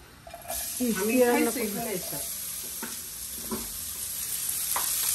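Onions and beans sizzle and hiss in hot oil in a pan, a steady close frying sound with stirring, while someone talks over it.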